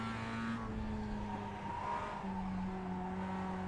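A Mazda race car driving at Lime Rock, its engine droning steadily and loudly from onboard with shifting pitch as it changes gears and pushes through a turn, alone without talk.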